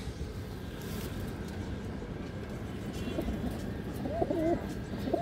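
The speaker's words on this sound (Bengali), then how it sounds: "এই দেখেন মাদি কবুতর।" A female pigeon among a flock of fancy pigeons gives soft, low cooing calls, mostly toward the end, over a constant rumbling background noise.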